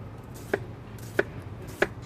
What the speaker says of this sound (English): knife across, and you're going to go down through your onion